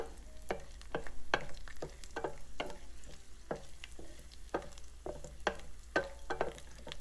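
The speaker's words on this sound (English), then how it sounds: "When the oil is hot, add ginger slices in. Stir a few times." Ginger slices sizzle and crackle in hot oil with dried chili and peppercorns, stirred in a pot, giving repeated bursts of scraping and frying noise at close range with no talking.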